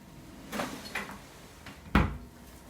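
A kitchen drawer holding cutlery opens in a small home, giving a couple of soft knocks and slides and then one sharper clack, close by in a quiet room.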